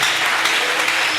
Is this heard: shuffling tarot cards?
no